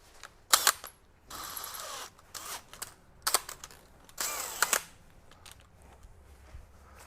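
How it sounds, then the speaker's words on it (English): A drill bit is fitted into a drill before drilling out a rivet, giving sharp clicks and ratcheting chuck noises in several bursts, close and moderately loud, with no one speaking. "Put your drill bit in."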